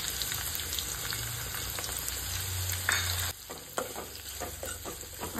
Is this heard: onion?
yes